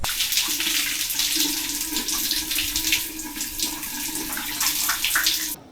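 Steady hissing rush of running water from a shower in Nicaragua, close and constant, spraying without pause; no voices.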